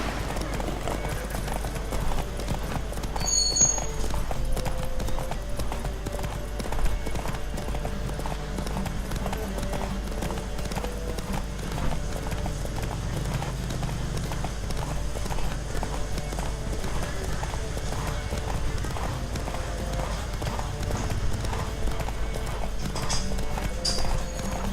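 Horses gallop in a race in the video game The Witcher 3, with rapid, continuous hoofbeats pounding close and loud, the rhythm holding steady throughout, while faint voices come in now and then.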